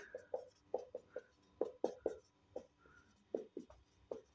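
Chalk or marker writing a heading on a classroom board, a quick series of short scratchy taps and strokes in an uneven rhythm, close and fairly quiet, with no voice.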